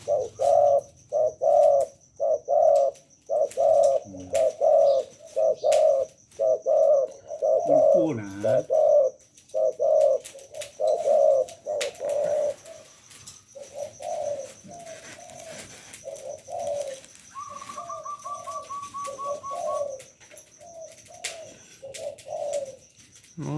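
A bird calls over and over, soft rhythmic cooing notes repeating steadily, then a brief rapid trill partway through, close and fairly loud.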